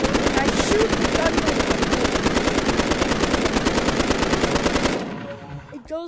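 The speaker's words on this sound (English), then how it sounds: "I shoot the gun." Rapid automatic gunfire from a VR video game rattles off in a dense, steady burst for about five seconds, loud and up close, then cuts to quieter rustling at the end.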